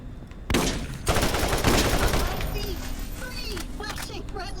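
Heavy gunfire erupts in the video game Borderlands during an urban firefight: loud, rapid bursts and sustained automatic fire roll on without a break, with some voices faintly mixed in.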